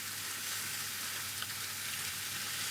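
Anchovies frying in olive oil in a pan, a steady soft sizzle and crackle with a faint hiss, close and even, no voices.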